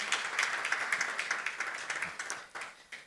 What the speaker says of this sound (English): Please help me put a round of applause for the executive governor.